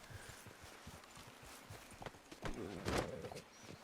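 Horse hooves clip-clop on the ground in Red Dead Online, a faint, uneven run of steps with a few louder strikes near the end, heard alone without talk.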